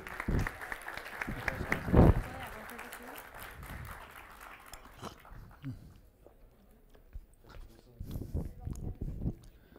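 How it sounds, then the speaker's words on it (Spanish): An audience applauds in welcome as Antanas Mockus, president of Corpovisionarios, is introduced at a presentation, clapping moderately loud for about five seconds and then fading into scattered claps and murmuring voices. "Vamos a recibirlo con un fuertísimo aplauso"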